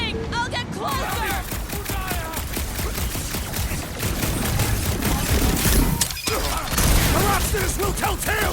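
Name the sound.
gunfire in the video game Guardians of the Galaxy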